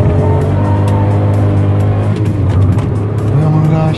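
Hyundai HB20 Turbo running on ethanol accelerates up a hill, its engine droning steadily loud and close from inside the car, with a slight shift in pitch midway.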